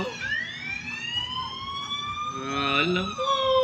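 Police car siren wailing in long rising and falling sweeps, fairly loud and close, with voices faintly underneath.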